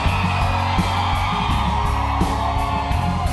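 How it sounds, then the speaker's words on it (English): Live rock concert crowd at an anniversary show, continuous loud mass of yelling, whooping and screaming fans with steady dense roar throughout, no single voice standing out. "I want you screaming at the top of your lungs all these words"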